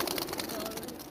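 Racing pigeons cooing softly as they are released, a short burst of bird sounds over a busy, noisy background.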